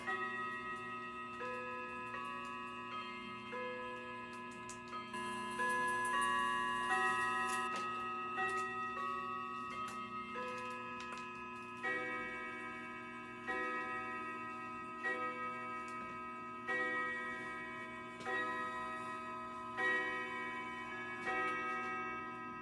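An indoor clock ticks steadily, and its ringing chimes sound a repeated melody of bell-like tones, loud and close, with no talking.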